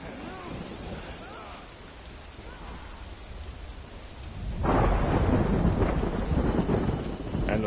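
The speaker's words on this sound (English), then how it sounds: "And the thunder rolls." Rain falls steadily in the Death Stranding video game while thunder rumbles low, then a loud, heavy crack and roll of thunder swells over the downpour partway through.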